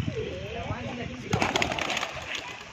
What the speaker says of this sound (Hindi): ये तीनों कबूतर उड़ रहे हैं।